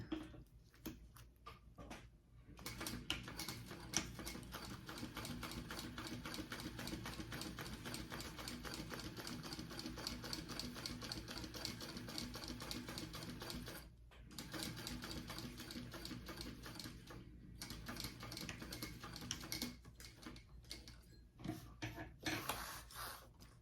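A sewing machine top stitches the folded edges of a fabric wallet, a fast, steady mechanical clatter that runs in long bursts with a few short pauses between passes, close and fairly quiet.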